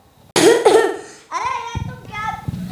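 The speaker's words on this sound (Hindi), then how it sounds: "धुएं से मुझे खांसी हो रही है" Someone coughs from cigarette smoke on a stage in a group performance about addiction, a sharp burst of loud coughs followed by voices talking and reacting close by.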